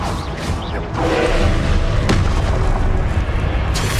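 Confringo blasting spell explosions in Hogwarts Legacy, in the middle of a magic duel. Loud, booming impacts and sharp cracks stack up under continuous game noise, with a distinct hit near the midpoint.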